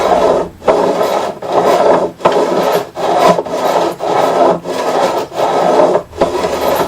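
Steady back-and-forth rasping of a metal beveling file on guitar fret ends, about nine even strokes with brief pauses between, close and fairly loud, no talking.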